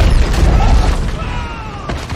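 A meteor strikes the ground in a film scene, a heavy sustained boom with low rumble across the whole clip that tails off slightly toward the end, with no voices.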